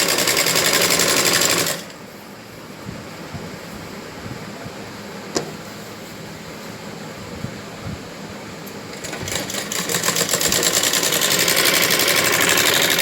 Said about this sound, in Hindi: अभी हम सिलाई लगाते हुए जा रहे हैं